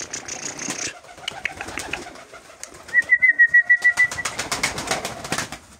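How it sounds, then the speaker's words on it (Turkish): Van high-flyer pigeons flutter and shuffle nearby, with a short run of rapid, evenly spaced flapping or cooing pulses midway and scattered wing claps and knocks around it. "Evet arkadaşlar, kuşlarımız bunlar."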